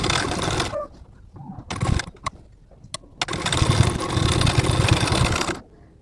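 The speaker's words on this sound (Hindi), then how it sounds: "इसमें जो पैच दिया था पहले इसको हम लोग यहाँ पे रख के और इसके चारों तरफ सिलाई लगा के इसको अटैच कर लेंगे" A sewing machine stitches a patch onto the front of a kurti, running close by in short whirring bursts and then one longer steady run, with a few clicks and pauses between.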